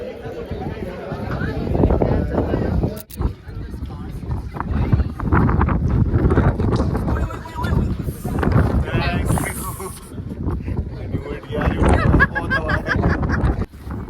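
Strong wind at Sajjangarh Palace near Udaipur buffets the microphone outdoors with a loud, gusting low rumble throughout, while a person talks over it.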